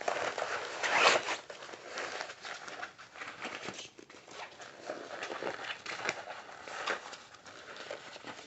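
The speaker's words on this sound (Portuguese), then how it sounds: "Vou abrir o zíper, tá? Pra ficar fácil aqui na hora de virar" A zipper is pulled open on a handmade box-style necessaire bag of structured synthetic material with a fabric lining, giving a steady rasping run with a louder scrape near the start, close up and alone.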